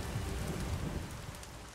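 Steady rain pours in the video game The Witcher 3, a soft, continuous wash of falling drops with a low rumble beneath, heard on its own without speech.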